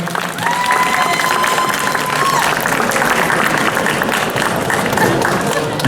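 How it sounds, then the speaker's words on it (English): Steady, dense audience applause at a cosplay contest in Peoria, with a faint crowd murmur and a held tone underneath, continuing at an even level for the whole stretch. "A huge round of applause"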